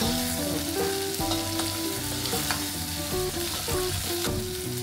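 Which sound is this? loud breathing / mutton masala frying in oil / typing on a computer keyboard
mutton masala frying in oil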